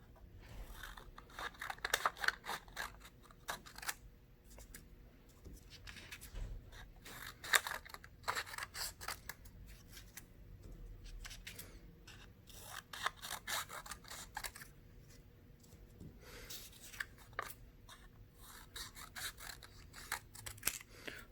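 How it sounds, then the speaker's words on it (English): Scissors cutting strips of paper, a series of faint, sharp snips and crisp paper crackles in quick irregular bursts against a quiet room. "Let's go ahead and cut a few strips."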